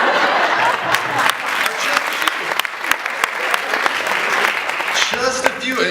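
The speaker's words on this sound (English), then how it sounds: "now you're all clapping" An audience at a graduation ceremony claps in dense, loud applause that carries through the clip, with a voice rising over it near the end.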